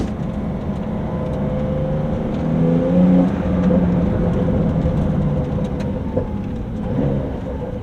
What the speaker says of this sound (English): Give it a little rev again, Sean.